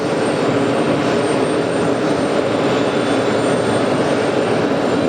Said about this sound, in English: That is a 330 Neo.